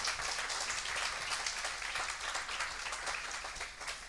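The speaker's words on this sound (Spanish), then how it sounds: "de un aplauso al Señor" Church congregation applauding for the Lord during a worship service, a steady dense wash of hand claps at moderate level, continuous and unbroken, with no voices standing out.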